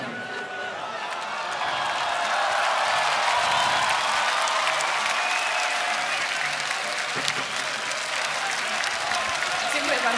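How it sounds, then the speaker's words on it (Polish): Audience applause at a punk concert, a broad wash of clapping and some cheering that rises after a couple of seconds and holds steady, with talk faintly mixed in. "Brawa dla Nicoli!"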